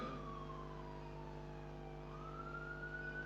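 A fire engine siren wailing at a distance, one long tone sliding down and then rising again, faint and steady against a low background hum.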